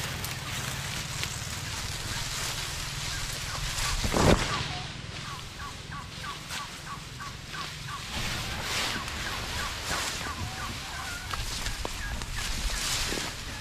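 Turkeys gobble in a rural outdoor yard where dry cogon grass is being gathered, repeated bursts of gobbling at moderate distance over a soft continuous background.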